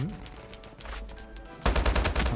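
Rapid automatic gunfire from Call of Duty Mobile gameplay, with a few scattered shots first and then a loud close burst of fast repeated bursts at the end.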